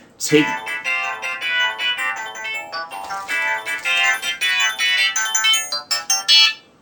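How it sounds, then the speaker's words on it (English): A phone's real ringtone plays a bright, melodic jingle of repeated electronic notes, loud and close, running continuously for several seconds with no talking. "that is my real life ringtone"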